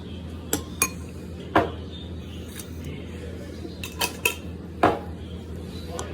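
A metal spoon clinks sharply against a bowl while homemade cinnamon is added to a scrub mixture, giving about eight separate bright taps scattered over several seconds above a low steady background.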